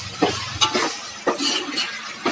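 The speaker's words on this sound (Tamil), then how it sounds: "கட் பண்ணி வச்ச உருளைக்கிழங்க போட்டு நல்லா கிளறி விட்டுக்கணும்." Cut potatoes are stirred in a frying pan, a soft sizzle underneath as a spoon scrapes and knocks against the pan in several uneven bursts.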